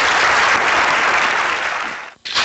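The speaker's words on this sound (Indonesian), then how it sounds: "Kasih tepuk tangan dong." Studio audience at an Indonesian television talk show bursts into loud, steady applause that fills the room, then cuts off abruptly near the end.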